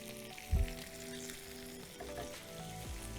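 Tomatoes frying in masala on a stove for dhaba-style chana dal, a soft continuous sizzle under a low background hum, with a brief knock of a pan or spoon early on.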